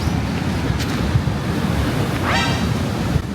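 Ocean waves wash steadily onto Koh Ma beach on Koh Phangan island, Thailand, a continuous loud surf roar mixed with strong wind buffeting the microphone, with a brief squeaky call partway through.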